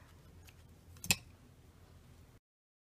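Wire hair on a small fairy figure for a fairy garden is snipped once with a single faint, sharp click, heard alone against a quiet room.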